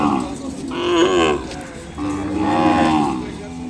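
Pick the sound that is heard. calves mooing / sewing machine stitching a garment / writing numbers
calves mooing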